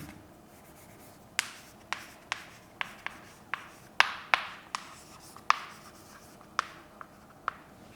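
Writing on a board during a maths lesson, heard as a dozen or so sharp, irregular tapping strokes and short scratches, close and fairly loud, with no talking.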